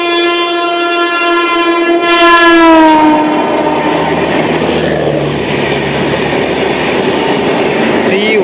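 The Guwahati–Kolkata Garib Rath Express passes close by, a loud horn blast sounding at first, then fading into the continuous roar and rattle of the train rolling past.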